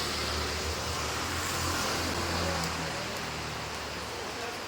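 Steady rain hisses as a dense, even wash of noise throughout, with a low rumble underneath, at a temple as people prepare to head out for a Kaliyattam festival.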